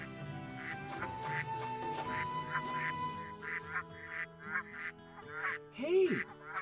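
Large birds in the video game Baten Kaitos quack and honk repeatedly in short bursts over a soft ambient background, with one louder, swooping call near the end.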